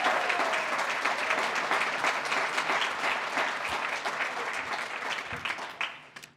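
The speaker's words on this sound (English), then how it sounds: "Give those guys a great round of applause." Audience at an awards gala applauding steadily, a dense wash of clapping from a sizable crowd that holds at full strength, then thins out and fades near the end.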